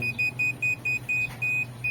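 An active buzzer on an Arduino, switched by a photoresistor, gives a rapid series of sharp, high electronic beeps in a steady on-off rhythm, about nine pulses, close and loud.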